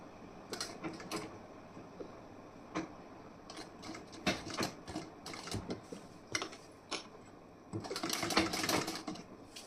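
Sewing machine stitching the back part of a blouse, heard as a quiet, irregular run of mechanical ticking and clattering bursts that grows busier toward the end.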